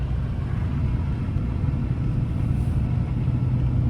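A car drives along a slick winter road in steady low rumble and tire hiss heard from inside the cabin, constant and unbroken with no voices.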